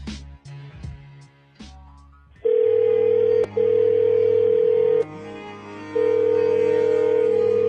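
A telephone rings in a crime documentary about the BMF drug trade, opening with a few sharp clicks and thumps before a loud steady electronic ring tone sounds in long repeated bursts.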